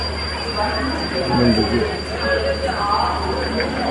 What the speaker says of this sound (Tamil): Chennai central railway station.